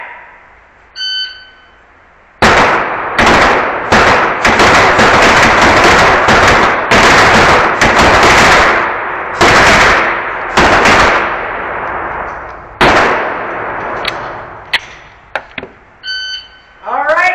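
Rapid Glock pistol shots ring out in dense, loud volleys at an indoor sport shooting event, echoing off the range between bursts, with a few isolated shots and brief beeps at the start and end.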